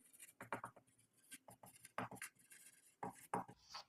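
Marker or chalk writing on a board during a Class 9 maths factorization lesson, quick bursts of scratchy strokes in an irregular rhythm, close and fairly quiet, with no talking.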